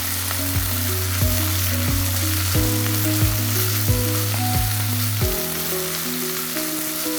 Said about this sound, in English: Let's saute that well into the mix.